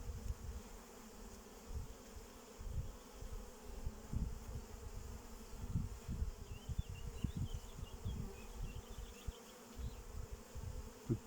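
Honeybees buzz around an opened hive during an inspection, a faint, steady hum broken by soft knocks and handling bumps from the frames.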